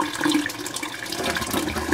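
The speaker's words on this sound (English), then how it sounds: "we're starting to drain the tank now" Warm water drains out of a home hot water tank during an anode rod replacement. It makes a steady rushing, gurgling flow, fairly close and continuous, with no voices.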